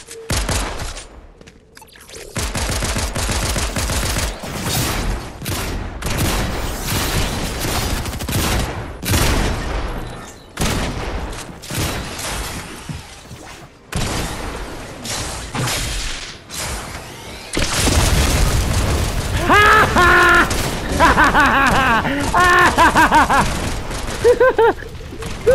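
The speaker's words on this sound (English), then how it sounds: "Oh, somebody's shooting at us." Gunfire in the Fortnite video game comes as rapid bursts of shots in clustered volleys with brief gaps, loud and close. A denser, sustained stretch of fire builds near the end.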